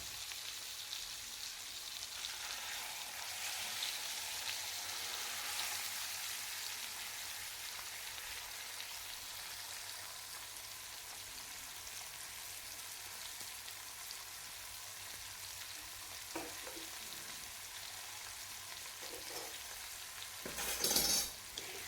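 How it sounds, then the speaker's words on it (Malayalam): Tilapia fish frying in a pan on a stove, a steady soft sizzle and crackle running throughout with no voices, a few brief clinks and a louder burst near the end. "ഇനി ഒരു പാൻ അടുപ്പത്ത് വെച്ചിട്ട് നമുക്കതൊന്ന് പൊരിച്ചെടുക്കാം"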